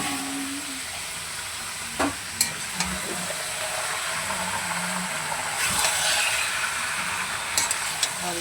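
Chicken pieces frying with browned onions in a pan, an even background sizzle and hiss with a few sharp knocks and scrapes of stirring, moderately close and steady.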